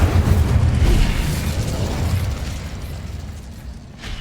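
A fiery Incendio spell blast in the Hogwarts Legacy video game, a loud, sustained roaring burst of flame that fades slightly over a few seconds.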